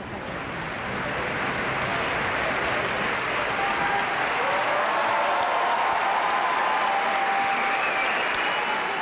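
An opera audience in Barcelona gives a dense, sustained ovation of applause at the general rehearsal of Rubinstein's opera The Demon, the clapping swelling and holding steady throughout.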